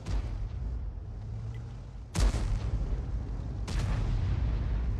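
Bat.-Châtillon 155 artillery shells strike in a tank video game, two sharp, loud booms a second and a half apart, each with a rolling rumble, over steady low battle noise.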